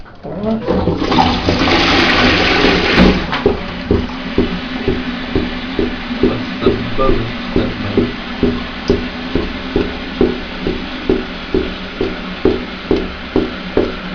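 A clogged toilet being unclogged is flushed, a loud rush of water for about three seconds giving way to a rhythmic gurgling and sloshing that repeats steadily while the bowl drains.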